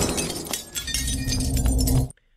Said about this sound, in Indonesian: Dan membuat foto Sekar pecah